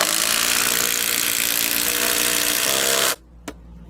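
A Milwaukee Gen 3 impact driver runs at a steady high-pitched whine with rapid hammering buzz for about three seconds, then cuts off abruptly, followed by a single faint click.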